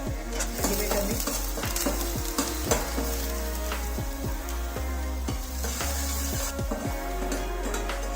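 Grated ginger and chopped garlic stir-frying in a pan for a street-style veg Manchurian, a steady loud sizzle throughout with repeated sharp metallic scrapes and clacks of a spatula against the pan, no talking.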